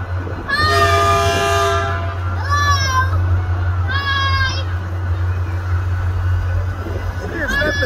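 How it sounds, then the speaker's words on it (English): A train horn honks in several short blasts over a constant low rumble, with a voice chiming in between. "When he honks the horn, he's saying hello."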